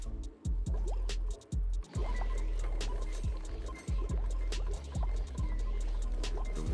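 Water flowing through pipes in the video game Oxygen Not Included, a close run of gurgling, dripping liquid sounds with repeated short pops and sloshes in an uneven rhythm.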